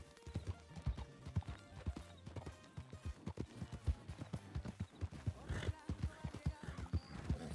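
Rhythmic horse hooves clip-clopping at a steady gallop on the ride back to Valentine in Red Dead Redemption 2, evenly paced thuds, moderately quiet.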